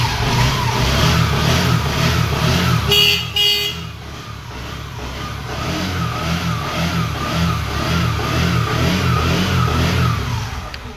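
A used 2013 Bajaj Discover 125 motorcycle engine idles and revs with a steady throbbing pulse close by, dipping briefly before settling back into a rhythmic running note.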